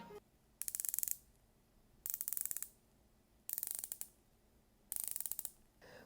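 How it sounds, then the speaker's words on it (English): Four bursts of rapid mechanical clicking from a Christopher Ward C65 Aquitaine watch's rotating bezel, each about half a second long, separated by short pauses, close up and crisp against a quiet background. "the bezel to have that perfect click sound"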